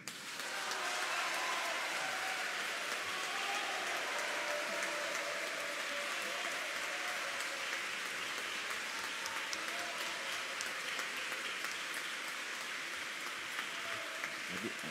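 Sustained applause from a large audience at the close of a speech against Chile's abortion law, a dense, steady wash of clapping lasting throughout, with faint murmuring voices mixed underneath.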